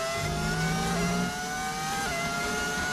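A Formula 1 car engine in the F1 25 video game, with an audio mod, drones at a high, steady pitch, stepping through shifts as it revs, loud and continuous with no pauses.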